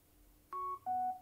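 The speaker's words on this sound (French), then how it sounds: "le petit bip et puis la confirmation vocale, appareil connecté" Two short electronic beeps from a Sony SRS-XB23 Bluetooth speaker pairing, in quick succession, the second slightly lower and longer, clear and close against a quiet background.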